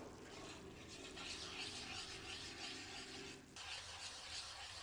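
Bajra millet flour is roasted in ghee and stirred in a pan, producing a steady soft rasping and sizzling hiss that runs without pause at fairly low volume.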